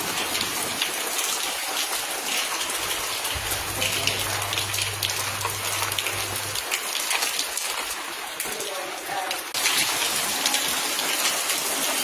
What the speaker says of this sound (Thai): ฝนตกฝนตก น้ำฝนนี่ น้ำฝน